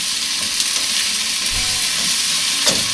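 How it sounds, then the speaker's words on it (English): Vegetables for a frittata fry in a pan with a constant loud sizzle, while a utensil stirs and scrapes through them in a few close, soft knocks. "Give my vegetables a stir."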